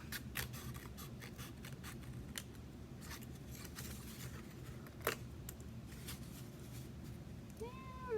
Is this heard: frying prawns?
no